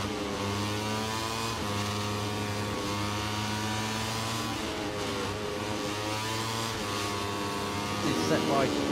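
MotoGP racing motorcycle on a flying lap during Czech Grand Prix practice, its high-pitched engine rising in repeated revving sweeps through gear changes, heard under steady commentary talk.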